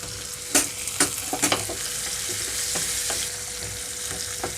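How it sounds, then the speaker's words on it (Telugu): Sliced onions and drumstick pieces fry in a pan for a taro and tomato gravy curry, a steady close sizzle with several knocks and scrapes of stirring early on. "ఇక్కడ ఉల్లిపాయ ముక్కలు వేగేటప్పుడే ఇందులోకి మునక్కాడలు కూడా వేసేస్తున్నానండి"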